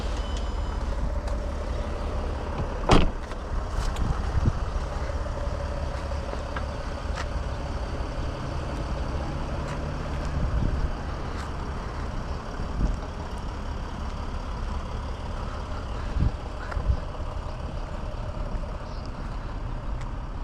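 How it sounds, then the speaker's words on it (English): 2007 Mercedes E320 BlueTec diesel engine idles or runs steadily with a low, even rumble and faint clatter, continuous throughout with occasional small knocks and no talking. "You can definitely tell it's a diesel."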